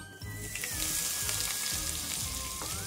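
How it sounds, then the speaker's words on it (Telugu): Diced onions sizzle in hot oil with cumin seeds and dried red chillies, a steady close frying hiss with faint stirring scrapes throughout. "ఉల్లిపాయలు ఫ్రై చేసుకుందాం బాగా"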